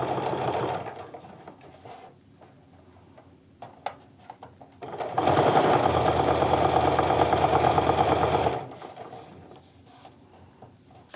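A sewing machine runs top stitching along a fabric edge on a handmade clutch: a brief whirring burst, a pause with small handling clicks, then a longer steady mechanical run of about three seconds before stopping.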